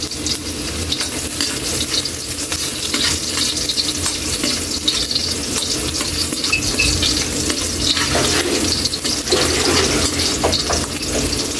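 Garlic sautés in a pan with a loud, continuous close sizzle, joined by intermittent stirring scrapes throughout, with no voices.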